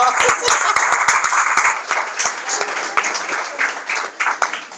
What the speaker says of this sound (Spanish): Aplauso por eso